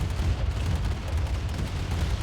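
Gunfire from units in Company of Heroes–style strategy match, Heavy Metal mod TL versus BR: a steady dense low rumble of overlapping shots and blasts, continuous and fairly loud throughout with no talk.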